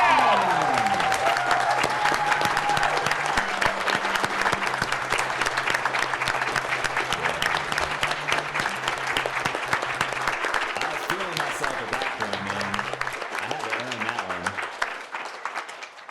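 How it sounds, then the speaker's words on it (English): A large crowd cheers and applauds loudly and steadily for over fifteen seconds, with voices mixed in, before tapering off at the end. "Crowd's going wild."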